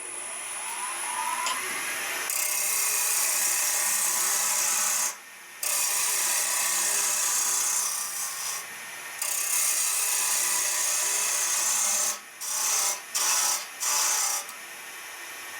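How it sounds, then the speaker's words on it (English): A parting tool cuts into a wooden handle spinning on a lathe to seat a ferrule, giving a steady close scraping rasp that drops out briefly several times, with short gaps near the end. "I'm going to get my parting tool, make a cut down here, cuts down here, and we're basically going to fit the ferrule"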